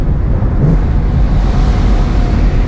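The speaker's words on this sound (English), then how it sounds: "Let me hear some downshifts, actually." A supercharged Ford Mustang on a late-night drive gives a loud, continuous low rumble. Heavy wind and road noise blend in throughout, with no clear separate rev blips.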